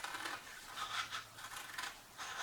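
Scissors snipping through paper in a few quick chopping cuts, a crisp dry scraping rasp repeating at a brisk irregular rhythm, close and fairly quiet with no talking.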